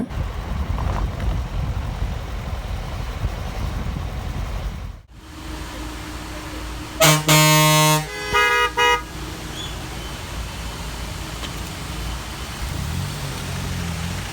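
Steady rumble of heavy traffic on a Kodaikanal hill station road, with a loud car horn blaring in a long blast followed by a couple of shorter honks partway through, engines droning before and after.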